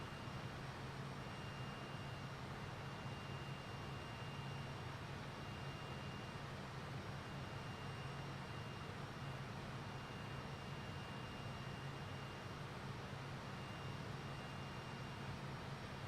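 An airplane flying in a flight video game, heard as a steady, loud, unbroken engine drone and rushing noise that fills the whole stretch with no talk.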